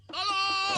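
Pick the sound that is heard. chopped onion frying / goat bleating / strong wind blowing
goat bleating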